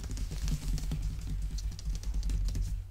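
Steady, rapid clicking of keys on a computer keyboard, continuous and close, with no voices.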